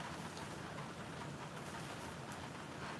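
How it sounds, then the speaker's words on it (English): Steady rain falling, a soft continuous hiss with scattered drops ticking on a surface, faint and even throughout with no voices. "And now you can hear the rain."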